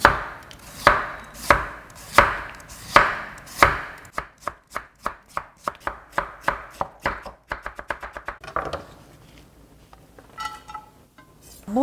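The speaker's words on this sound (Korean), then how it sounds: "자, 이제 무채는 그대로 썰고요." Knife chopping radish into julienne strips on a board for summer kimchi, loud, steady rapid strokes that start spaced and speed up into a quick rhythm, then trail off into quieter handling.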